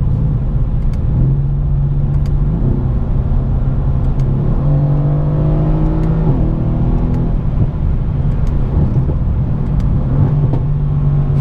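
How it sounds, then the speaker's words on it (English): A Mercedes-AMG C63 S in manual mode with paddle shifters runs loud and steady, its engine drone rising and falling through revs with pitch sweeps as gears change; no talk is heard. "That's when we get the nice crackles when you downshift."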